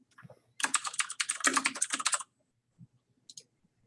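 A dense run of rapid key clicks on a computer keyboard lasts under two seconds, followed by a few isolated taps, close and clear in an otherwise quiet room.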